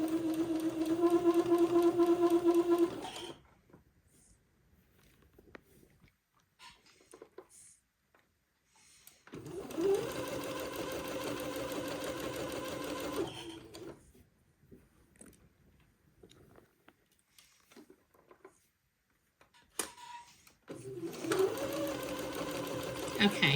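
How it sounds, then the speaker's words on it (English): A sewing machine stitches a straight seam along the leg hole opening of a baby raglan garment, running in three loud, close bursts of steady whirring separated by quiet pauses. "it'll take me a minute to get all the way along this leg hole opening sewing the straight seam"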